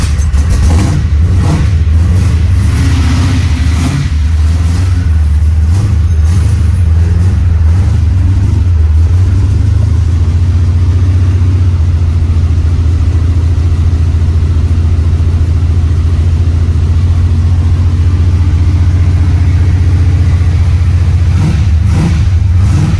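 A 1972 Chevrolet Chevelle big-block V8 rumbles loud and close, settling into a deep, steady idle with occasional throttle blips and revs, with no talking over it.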